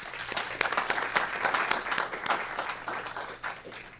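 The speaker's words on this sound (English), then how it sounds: "Let's give them a round of applause" Steady applause from a city council meeting audience honoring a restaurant's window decorating contest win, dense and moderately loud, with scattered sharper claps throughout.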